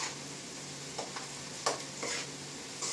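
Food fries in a pan with a steady, close sizzling hiss throughout, broken by a few louder scraping stirs.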